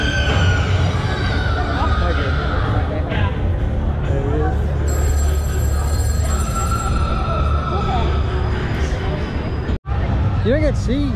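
A black telephone bell rings in a scare zone at Universal Studios' Halloween Horror Nights 2024, amid busy crowd chatter, with bright trilling tones and a sharp clatter near the end.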